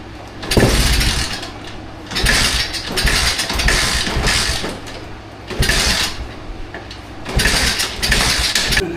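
A subscriber's repaired dirt bike engine cranks in repeated bursts, revving briefly several times with short pauses between, loud and close.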